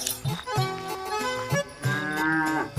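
A buffalo moos several times in a row, loud and close, each call a long low bellow with short gaps between them, and no speech over it.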